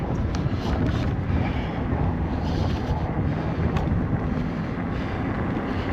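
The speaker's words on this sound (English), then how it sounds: "As usual, it's windy again today." Strong wind buffeting a microphone on a creekside trail during an e-bike ride, a constant loud low roar with gusty rushes and no talking.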